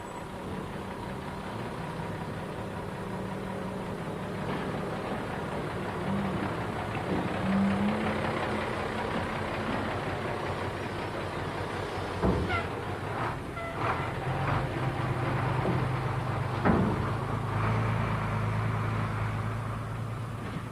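A Bristol bus of Wilts and Dorset on the 150 service from Bournemouth to Swanage in 1988 runs with a steady low engine drone and rumble throughout, with a few heavier knocks and swells partway through and no talking.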